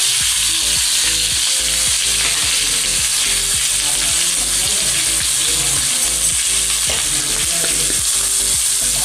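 Tomatoes with coriander-cumin powder and Kashmiri chili fry for a Kathiyawadi dry curry, a loud, dense, hissing sizzle that runs unbroken, with a low spoon-scraping rumble underneath.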